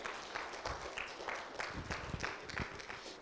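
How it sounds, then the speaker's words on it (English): Faint applause from a church congregation, a wash of clapping with a few louder individual claps standing out at an even pace, distant and soft. "Let's give her a round of applause"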